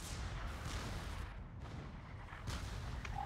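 Heavy artillery fire from a real-time strategy game battle, fortified artillery pounding steadily with dense rumbling booms and a couple of sharper blasts, loud and continuous without talk.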